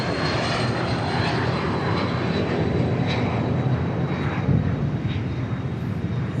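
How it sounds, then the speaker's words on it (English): A HondaJet passing at Dallas Love Field, a steady broad jet roar with a faint whine, sustained and moderately loud throughout with no talk. "It is, in fact, a Honda Jet."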